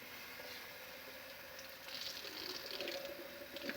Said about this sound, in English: The next step is you fill it up with water.